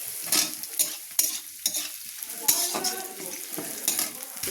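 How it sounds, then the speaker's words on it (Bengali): Garlic and onion fry in hot oil in a pan, sizzling steadily while a spoon scrapes and stirs in repeated sharp strokes, close and alone with no voices. "রসুন, পেঁয়াজ, রসুনটা ভাজা ভাজা হয়ে গেছে"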